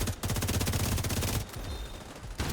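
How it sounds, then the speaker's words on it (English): Rapid, continuous bursts of automatic gunfire from a video game, loud and close, with a brief lull before more shots ring out at the end. "They heard gunshots."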